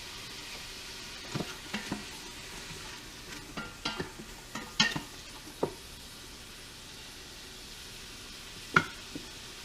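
Celery, carrots and the rest of a mirepoix for clam chowder sweat in a pot with salt and pepper, giving a low steady sizzle broken by scattered spoon scrapes and taps against the pot.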